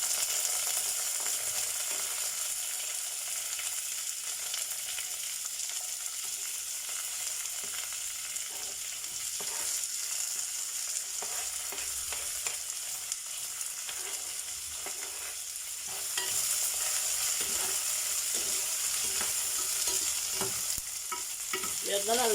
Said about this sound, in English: You're gonna let it fry like that for a bit